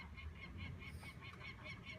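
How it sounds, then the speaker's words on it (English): A peregrine falcon calls in the background at a cliff site on the Channel Islands, a faint, rapid, evenly spaced series of harsh notes repeating steadily throughout. "Hear the peregrine in the back."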